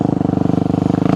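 Motorcycle engine held at steady revs during wheelie practice, a close, loud, evenly pulsing putter with a fast regular beat and no talk.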